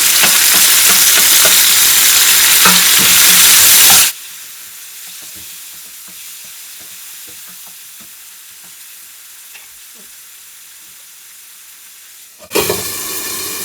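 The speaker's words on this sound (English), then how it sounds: "Onions are browning well. I'm going to add in a chopped tomatoes." Chopped tomatoes hit a pan of browned onions for Anglo-Indian masoor dal curry, giving a loud, steady sizzle that drops sharply to a quieter crackle with occasional stirring scrapes, then swells loud again near the end.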